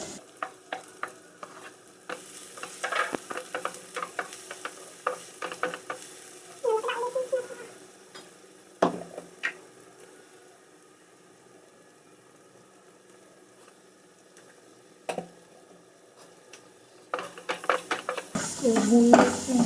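Onion and garlic fry in a pan for a potato sandwich filling, with a spoon scraping and stirring in bursts and a soft sizzle underneath, louder toward the end, and some quiet talk in the background.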